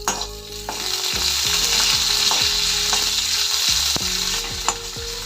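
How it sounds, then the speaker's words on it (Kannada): Byadgi chillies, garlic and ginger sizzle steadily in hot oil in a pan, a close, continuous frying hiss punctuated by regular scrapes and clinks of a spatula stirring, with no talking. "ಶುಂಠಿ, ಬೆಳ್ಳುಳ್ಳಿ, ಬ್ಯಾಡಗಿ ಮೆಣಸಿನ್ಕಾಯಿ, ಧನಿಯಾ ಎಲ್ಲ ಹಾಕಿ ಫ್ರೈ ಮಾಡ್ತಾ ಇದ್ದೀನಿ"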